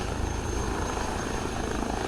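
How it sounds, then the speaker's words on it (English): Airbus H160 helicopter in a flight simulator game, a steady loud rotor and turbine drone holding at an even level throughout, with no voices. "I'm just going to let the helicopter do its thing."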